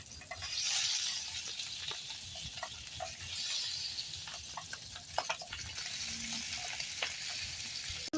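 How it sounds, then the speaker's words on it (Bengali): Pabda fish fry lightly in hot oil in a pan, giving a steady close sizzle and hiss with surges of crackling and occasional utensil taps, no voices. "মাছগুলো হালকা করে ভেজে নেব"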